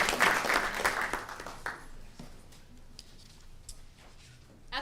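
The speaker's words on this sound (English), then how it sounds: "Let's give one more big round of applause." A round of applause at a student government meeting fades out over about two seconds. Scattered claps and small clicks and taps follow in a quieter room.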